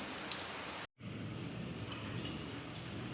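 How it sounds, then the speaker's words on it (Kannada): Heavy rain falls outside a house during a power cut, a steady, hissing patter that stays faint and distant. The sound cuts out for a moment, then resumes unchanged. "ಜೋರು ಮಳೆ ಬರ್ತುಂಟು"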